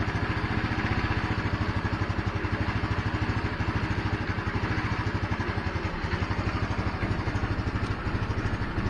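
A GY6 150cc scooter engine running roughly and struggling to stay alive, a steady close chugging, clattering putter with uneven RPM throughout, no talking.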